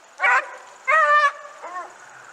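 Hunting hounds bark at a mountain lion treed in the Colorado backcountry: two loud, near barks and then a fainter yelp, spaced irregularly over quiet background.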